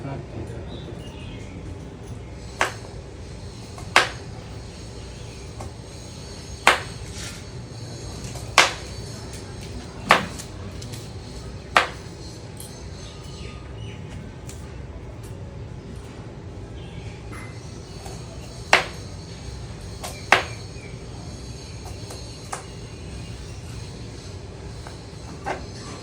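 Meat is cut up for cooking at home, heard as sparse, sharp knife strikes on a board spaced several seconds apart over a low background murmur, with some talk.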